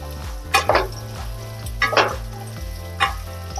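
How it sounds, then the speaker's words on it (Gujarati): Cashews and paneer sizzle and fry in a pan for a Punjabi curry made without onion or garlic, with a steady crackle and three louder bursts of stirring, close by and with no talking. "આપણે હવે કાજુ અને પનીર બંને સાંતળાઈ ગયા છે"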